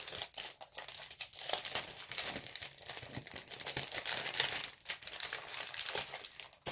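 Continuous crinkling and crumpling from a small sticker being handled for a vintage-style art journal, close and fairly loud, with irregular rustling bursts and no talking.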